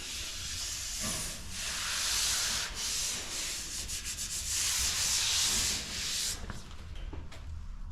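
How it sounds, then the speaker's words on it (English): Steady abrasive scraping of sanding body filler on a Peterbilt truck, continuous rubbing strokes with brief pauses, fairly close and loud, no talking. "A bit more sanding involved"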